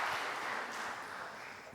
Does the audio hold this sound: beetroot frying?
no